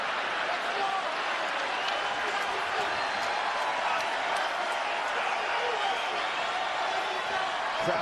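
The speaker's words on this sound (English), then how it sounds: "Crowd getting behind these athletes here in the waning seconds of this one." A crowd at an MMA fight cheers and applauds in the closing seconds of the third round between Pettis and Miller, a steady wash of noise that holds throughout.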